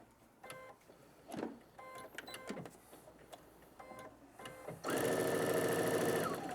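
Sewing machine stitching a quilt Y-seam, first a few short bursts of needle action, then a steady loud run of stitching through the last second and a half.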